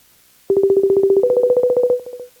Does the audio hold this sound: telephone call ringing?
yes